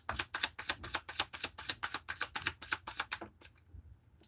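Tarot cards are shuffled close by in a quick, steady run of crisp riffling flicks lasting about three seconds, then tapering into quieter shuffling. No one speaks.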